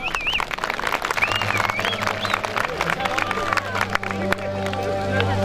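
A festival audience at the Dildos highland festival in Erbaa, Tokat, applauds in a steady, dense patter of clapping with crowd murmur. It is close and fairly loud, fading into sustained tones and a voice toward the end.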